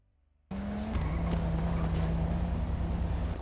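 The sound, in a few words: car engine running in a video game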